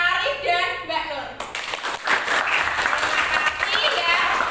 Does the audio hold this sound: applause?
yes